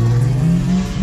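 A drift car's engine revs hard and steady at close range, a loud continuous roar that holds its pitch through the short moment.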